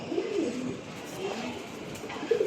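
Old-breed Giribaz pigeons give faint, low coos, a few soft rolling calls spread across the moment against quiet background noise.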